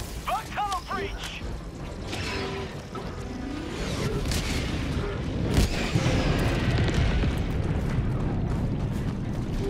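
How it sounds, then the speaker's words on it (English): A big explosion in the video game Helldivers 2 booms out amid rumbling battle noise and mechanical clatter, with a sharp blast partway through that is followed by sustained low roar. "That's a big explosion."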